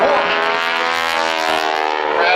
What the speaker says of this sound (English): she'll use every bit of that 450 horsepower as she turns around at Air Show left for another spectacular wing over